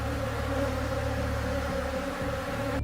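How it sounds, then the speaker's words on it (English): Honeybee swarm hanging on a rotten tree trunk in a forest, a dense continuous buzzing hum, loud and close, steady throughout with no talking. "And here is a nice swarm hanging on a tree trunk."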